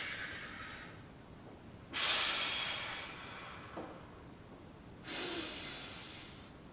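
Deep, slow breaths during a back and hip mobility exercise come as long hissing exhales spaced a few seconds apart, close and fairly loud over quiet room tone, with no talking.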